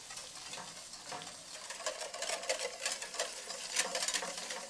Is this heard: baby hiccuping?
no